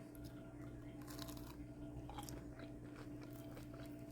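Close, quiet biting and chewing of Wienerschnitzel fast-food jalapeño poppers, with repeated soft crunches and wet mouth sounds over a steady low hum.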